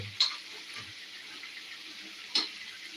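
Chicken fry is stirred in a pan, with a quiet, steady sizzle broken by two or three sharp scraping clinks of the spoon against the metal.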